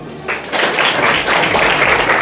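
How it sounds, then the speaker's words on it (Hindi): Children at Future Leaders School break into applause at a school event, a dense, steady burst of many small hands that starts abruptly and keeps going at full strength, close and fairly loud. "तालियां बजाओ।"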